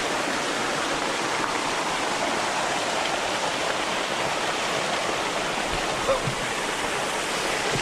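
A waterfall roars steadily at close range, a dense, unbroken wash of falling water with no pauses, loud and even throughout.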